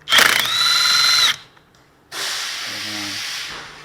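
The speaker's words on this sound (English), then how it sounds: "Put it on your gun, go in there, got one bolt out" An impact gun with a 1/2 to 3/8 inch adapter spinning out wheel bearing bolts on a Toyota's rear wheel, two loud close whirring bursts separated by a brief pause.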